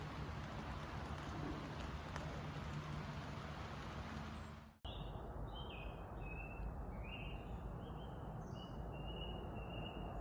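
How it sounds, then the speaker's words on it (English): Rain falling outdoors beside the M5 motorway in Britain at morning, a soft steady hiss of drops, then after an abrupt cut the patter continues with bird chirps scattered over it, faint and distant. "I can hear some rain."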